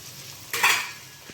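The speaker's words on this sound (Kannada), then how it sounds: "ಚೆನ್ನಾಗಿ ಎಣ್ಣೆ ಫ್ರೈ ಆಗಲಿ." A spoon scrapes and clatters briefly against a pan while fenugreek leaves are stirred in oil, with a faint sizzle of frying underneath.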